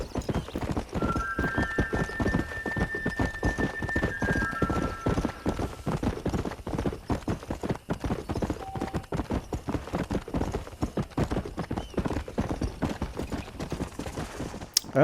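Rapid, steady clip-clop of horse hooves at a gallop in the video game Red Dead Redemption runs throughout, with faint tonal game music in the background.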